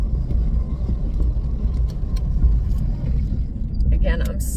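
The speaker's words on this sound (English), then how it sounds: "I'm turning the air on because it's 81 degrees" A home air conditioner running on a hot 81-degree day, giving a steady, close low rumble and hum that fills the room throughout, with a few faint higher clicks toward the end.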